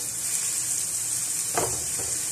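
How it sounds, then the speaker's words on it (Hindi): Onions sautéing in a pan, a steady bright sizzle filling the whole stretch with a brief stir or clatter near the end, close and continuous, no voices. "थोड़ा सा प्याज को सौते करेंगे"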